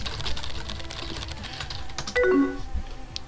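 Quick, light computer keyboard typing in a short irregular patter of clicks, fairly close and soft, with a brief electronic chime and a small click partway through.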